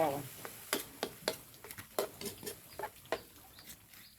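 Zucchini and pork are stir-fried in a pan with a spatula scraping and tossing in irregular clattering strokes over a light sizzle, close by, while people talk in the background.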